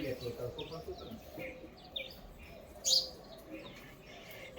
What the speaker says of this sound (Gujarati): પોપટ ને ચકલીન હોલાન આ તો બધા આવી ગયા ચકલા